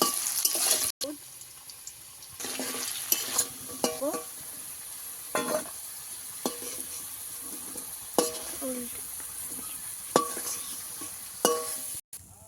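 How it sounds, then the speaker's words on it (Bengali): Small pieces of elephant foot yam fry in hot oil with a steady hiss and sizzle, broken by occasional stirring clatters and faint voices in the background. "ওলটাকে ভেজে নেব। কিন্তু ভালো করে ভেজে নিতে হবে।"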